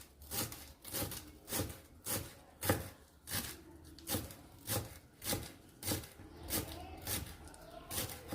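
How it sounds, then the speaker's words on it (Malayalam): A knife finely chopping fresh coriander leaves on a board, with steady rhythmic strokes about twice a second, each a crisp close thud, continuing evenly throughout. "മല്ലിയിലയാണ്, നമുക്ക് അതും കൂടെ പൊടിയായി അരിഞ്ഞു കൊടുക്കുക"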